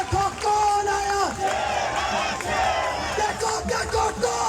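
A large crowd roars and chants without pause at an outdoor political rally in Bhara Kahu welcoming Sardar Shamoon Yar Khan, candidate for tehsil mayor. Massed voices shout loudly and steadily with rising cries, close and dense throughout.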